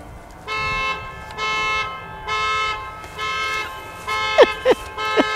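A Tesla car alarm goes off with repeated harmonic horn-like tones in regular pulses, followed by several short sharp chirps near the end, fairly loud and close.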